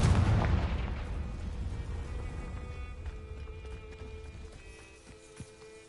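A Confringo fire spell blast in Hogwarts Legacy, a loud booming burst at the start that rolls into a long rumbling decay, with faint tones and crackles trailing off behind it.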